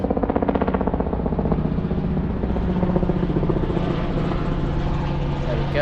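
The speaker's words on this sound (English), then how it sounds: "Hopefully that helicopter isn't too noisy." A helicopter thrums loudly and steadily overhead, its rapid rotor chop continuous throughout outdoors at a Sydney running session.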